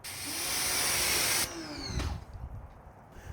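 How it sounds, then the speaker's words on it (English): A pressure washer runs with a loud steady hiss while washing a brand new Mini Cooper, then cuts off abruptly, followed by a brief spray burst and quieter intermittent spattering. "The pressure washer is nice"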